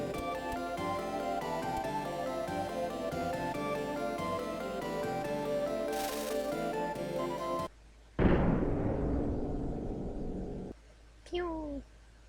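A cannon launch in the 1995 game Secret of Mana comes in as a sudden, loud booming burst with a decaying rumble, cutting off the music playing before it. A short, high chirping effect follows.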